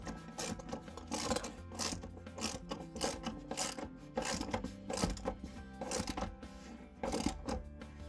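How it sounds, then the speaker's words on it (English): A ratchet tightens a bolt during a rear seat install in a 1979 Trans Am, quiet close rapid clicking in repeated bursts of strokes with short pauses between. "Get it started, and then we're going to take our ratchet."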